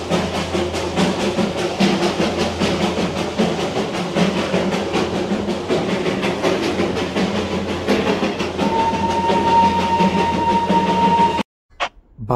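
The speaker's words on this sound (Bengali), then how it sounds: "বাতাসিয়া লুপ থেকে ঘুরে আমাদের ট্রেন প্রবেশ করলো সমুদ্রপৃষ্ঠ থেকে 7407 ফিট উচ্চতায় থাকা ভারতবর্ষের সর্বোচ্চ স্টেশন ঘুম" Darjeeling toy train running along the mountain line from Batasia Loop into Ghum station, at about 7,407 feet: a steady, loud rail rumble and rattle that lasts about eleven seconds, with a thin tone near the end, before cutting out.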